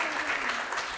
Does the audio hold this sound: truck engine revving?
no